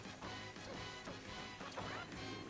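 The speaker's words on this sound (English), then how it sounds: "It's me smashing crystal, smashing apple, resetting the terrain." Repeated loud crashing and shattering as crystal and terrain are smashed in the video game Donkey Kong Bananza, dense overlapping impacts with no talk.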